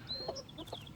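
A broody hen clucks softly in short, irregular bursts, with faint chirpy bird calls mixed in, fairly quiet and close with no talking.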